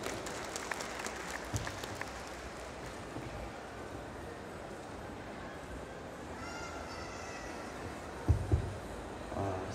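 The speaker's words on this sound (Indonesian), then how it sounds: "Sekali lagi kita beri tepuk tangan yang meriah untuk Revano Satria" Soft, steady audience applause at an indoor presentation event, a diffuse patter of many hands heard from a distance, with a couple of louder thumps near the end.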